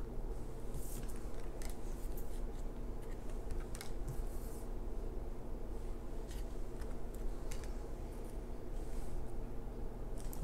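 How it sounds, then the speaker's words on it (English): Tarot cards being laid out for a reading, heard as soft, irregular card slides, shuffles and light taps close by over a constant background hum. "let's lay out these cards."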